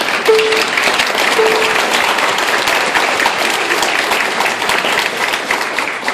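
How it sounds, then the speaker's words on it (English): Sustained applause from a crowd at an elementary school promotion night, steady dense clapping filling the whole stretch at a loud, even level. "if we could give him a round of applause for his work."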